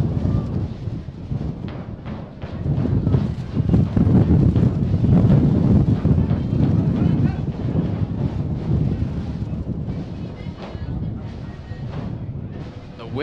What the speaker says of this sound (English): The wind just blowing this one backward.